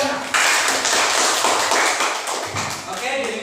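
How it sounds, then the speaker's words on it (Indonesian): A burst of clapping from a classroom group, busy and scattered, with voices murmuring underneath as the applause tapers off. "Tepuk tangan untuk jawabannya."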